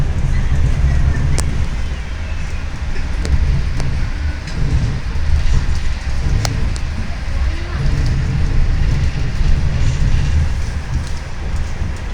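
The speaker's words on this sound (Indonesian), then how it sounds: "Kereta perlahan mulai memasuki area stasiun Bandung." A passenger train slows as it enters Bandung station: a continuous low rumble inside the carriage, with scattered sharp clicks and rattles from the wheels and car.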